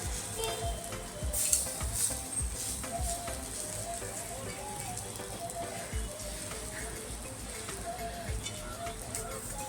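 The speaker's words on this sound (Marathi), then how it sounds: "आता आपले हे कटलेट खालीवर करून घेऊया आपण, मग परत उलटपालट करून भाजून घ्यायचे" Chicken keema cutlets flip and pan-fry in hot oil with a steady, close sizzle, and faint scrapes and soft knocks rise over the continuous frying hiss.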